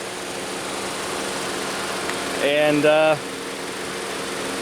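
A Chevrolet Malibu Classic with the 2.2 liter Ecotec four-cylinder, due for a motor mount, idles with a steady low hum throughout, and someone says a single word partway through.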